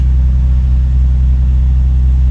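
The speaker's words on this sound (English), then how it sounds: "the car is running good" A cold Nissan 350Z engine idles steadily, a low continuous rumble with a smooth even hum and no other sounds.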